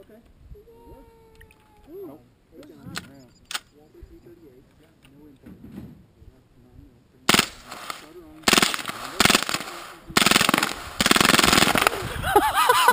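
A suppressed full-auto AR-15 with a .22 conversion fires rapid bursts that are loud and close, following a quieter stretch with scattered noises and voices.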